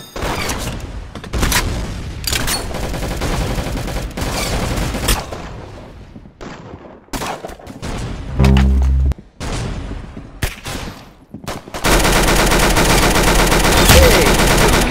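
Rapid video game gunfire with heavy bursts and booms, including a headshot, loud and dense throughout with a thick stretch of continuous shooting at the end.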